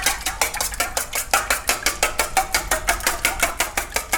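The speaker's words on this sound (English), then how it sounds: "next one is eggs. So let's mix it up." Eggs are beaten in a bowl with quick, steady clinks and taps, a fast regular rhythm of utensil striking the bowl, close and clear with no talking.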